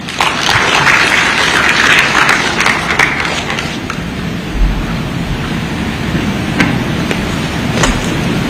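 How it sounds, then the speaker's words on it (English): Audience at a formal African Union meeting on UN Security Council reform applauding, a steady rush of clapping heard through a slightly muffled, windy-sounding pickup. "Round of applause."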